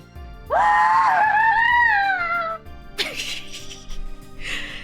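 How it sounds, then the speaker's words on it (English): A person lets out one long, loud scream that bends in pitch and lasts about two seconds as a microphone test, followed by softer breathy noises and rustling. "That's the scream test."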